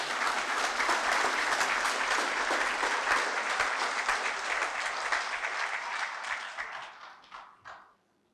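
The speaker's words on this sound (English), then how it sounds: "Give these beautiful people a round of applause" Sustained applause from an audience at a school prizegiving, dense and even for about seven seconds before tapering off and stopping.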